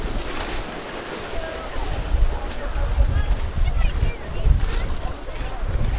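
Strong wind gusting outdoors by the bay, rough buffeting rumble against the microphone with water washing beneath, while people talk over it.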